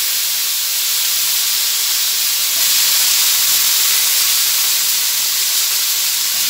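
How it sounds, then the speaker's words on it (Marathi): Cut potatoes fry with mustard seeds and turmeric in a pan, making a loud, steady, continuous sizzling hiss up close. "नंतर जो आपण बटाटा कट करून घेतला होता तो बटाटा आपण त्याच्यामध्ये टाकून घेऊया।"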